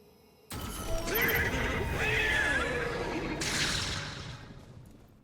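The STARHORSE in the Destiny 2 video game lets out a long, loud, close whinny with a trembling, wavering neigh, followed by a softer snort, set against a faint ambient backdrop.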